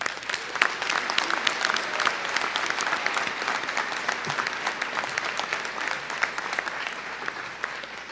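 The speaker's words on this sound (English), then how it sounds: "Please join me in a round of applause for them." A large commencement crowd at a business school ceremony claps for veterans, a steady, dense wash of applause at moderate level sustained throughout with no talking.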